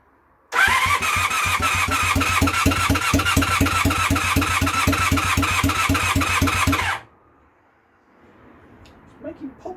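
Project motorcycle engine cranks for about six seconds in a steady rapid chug with uneven pops, fails to catch, then cuts to near silence.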